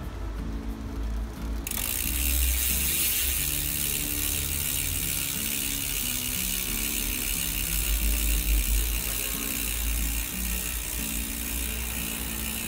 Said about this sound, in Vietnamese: Đấy là tiếng kêu của lip.